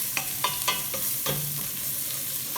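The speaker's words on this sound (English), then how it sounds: "we're going to add oil, and then we're going to add onion, add garlic powder, smoked paprika, pepper, and then stir that" Onion with garlic powder, smoked paprika and pepper frying in oil for beef stew, a soft sizzle under a few quick scrapes of a spoon against the pot.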